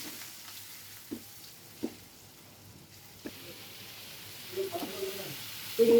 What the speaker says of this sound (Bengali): এবার চিংড়ি মাছগুলো ভেজে নিই।